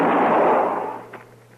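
A loud gunshot effect from an old-time radio drama, a single broad blast that fades over about a second, followed by faint trailing sounds.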